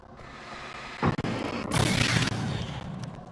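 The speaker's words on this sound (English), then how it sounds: "Lots of fireworks here." Fireworks bursting in the game Alan Wake: a sharp crack followed by a louder, sustained crackling burst that lingers under a steady background rumble.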